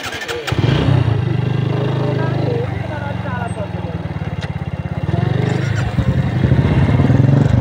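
A motorcycle engine runs steadily and close by on a mountain road trip in the Helambu area of Nepal, with a low throbbing drone that holds throughout, briefly rising near the end.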